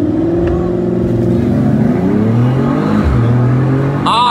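A Ford Mustang and a Mercedes E53 AMG accelerate hard side by side in a drag race, their loud, close engine roars climbing through the gears with layered rising tones.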